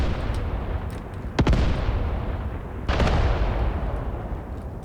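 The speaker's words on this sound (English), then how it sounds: "This 5cm mortar is absolutely wrecking that squad over there." Two heavy 5cm mortar blasts in the video game Graviteam Tactics, each a sharp boom with a long decaying rumble, spaced about a second and a half apart over a constant low battlefield din.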